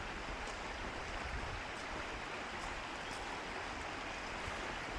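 A river or beck flows nearby in a steady broadband rush of water, with no breaks and no voices over it.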